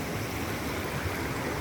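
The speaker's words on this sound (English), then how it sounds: "It looks like there's a bit more water flowing than last time I was here" Steady rush of stream water flowing along a hiking trail, a dense continuous wash close by with no voices.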